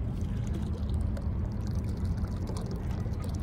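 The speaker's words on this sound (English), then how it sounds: "there's the water maker producing bubbles, because that is the brine coming out" A small live-aboard boat's water maker discharges brine into the sea, making a continuous low bubbling and gurgling wash near the hull, steady and even without pause.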